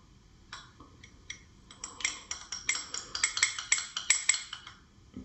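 Metal spoon stirring a mixture of oil and water in a glass, with rapid, regular clinks and scrapes that build in pace, close and clear with no talking.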